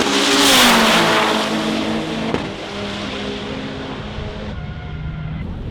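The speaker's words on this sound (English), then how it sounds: "you just saw that clip of those cars going by, and if you tell me that wasn't fast, you're out of your mind" Race cars roar past at speed, engines accelerating hard in a loud, continuous wash of noise with a falling pitch as they pass, a brief tire squeal and sharp transient midway, no voices.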